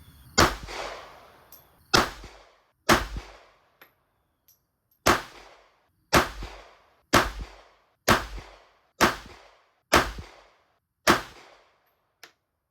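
A Ruger LCP Max pistol with thumb safety fires ten loud, close shots of Blazer brass 95 grain full metal jacket ammunition, spaced roughly a second apart, each with a short ringing decay and no talking.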